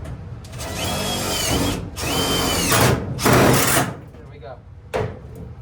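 Power drill driving screws into the body of a 1969 Camaro during new quarter panel and outer wheelhouse fitting, several whirring bursts of varying length, close and loud, with a short final burst after a pause.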